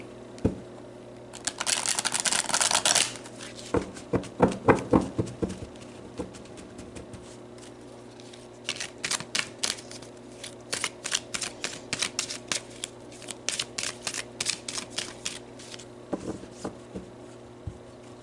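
Oracle cards being shuffled by hand in repeated bursts of quick riffling flicks separated by short pauses, close and crisp, with no talking.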